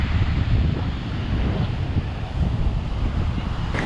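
Steady broadband roar of surf with constant wind rumbling against the microphone, no voices, an unbroken wash of sound.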